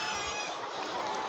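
Chickens on a poultry farm holding broilers and red hens, with an overhead fan running. Steady clucking and fowl chatter rises from a dense, continuous barn hum, fairly close and even throughout, with no talking.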